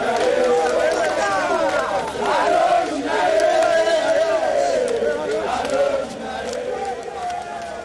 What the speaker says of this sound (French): le président de la République a eu droit à un bain de foule de quelques Congolais venus l'encourager